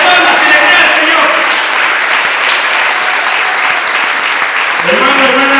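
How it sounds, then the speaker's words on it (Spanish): A church congregation applauds during a Spanish-language sermon, producing loud, dense, sustained clapping that fills the whole stretch, with a voice speaking over it. "Dale esas palmas y le crea al Señor."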